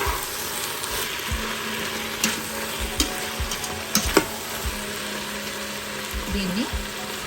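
Spoon stirring biryani masala in an Instant Pot, soft scraping and sizzling frying sounds with a few sharp clinks against the pot, fairly quiet and steady.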